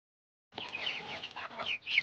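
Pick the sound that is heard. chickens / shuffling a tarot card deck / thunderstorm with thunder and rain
chickens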